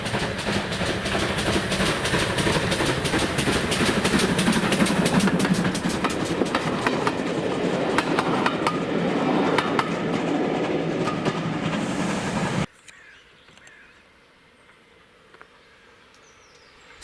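GWR Hawksworth 0-6-0 pannier tank 9466 hauls a local passenger train up a long 1 in 100 grade, loud steady chuffing and rolling wheels close by for about twelve seconds, then cutting off abruptly to quiet.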